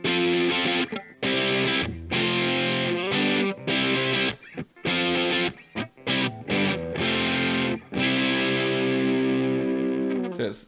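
Electric guitar played through an MXR Distortion+ clone pedal with knobs near noon, giving sustained, fizzy distorted chords and notes in loud phrases separated by brief pauses, with no talking.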